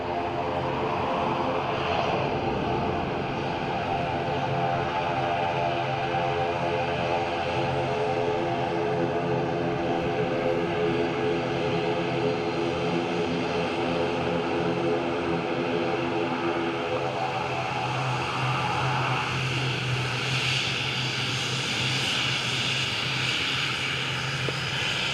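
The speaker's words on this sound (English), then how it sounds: "ATR coming all the way down to Sierra 5, second one of the day" ATR turboprop aircraft taxiing at Dublin Airport, a steady loud propeller drone with layered tonal whine holding throughout, heard from fairly close.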